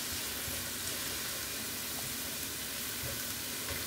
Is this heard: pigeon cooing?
no